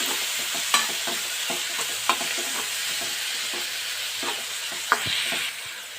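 Tomatoes fry with potato and okra in a pan for aloo bhindi sabzi, a continuous close sizzle with a few sharp stirring knocks scattered throughout.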